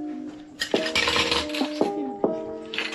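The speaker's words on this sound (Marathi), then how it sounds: "चमचे बघा, मी चमचे बी आणले." Metal spoons clink and jingle against each other and other household utensils, several sharp ringing strikes at close range over a few seconds, with no talking.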